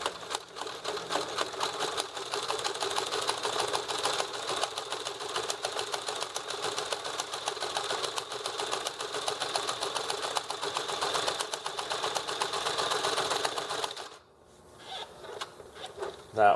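A sewing machine stitches a patch onto a trouser waistband to reinforce it for suspenders: a fast, even, close mechanical whirring that runs for about fourteen seconds, stops abruptly, and is followed by a few quiet handling sounds.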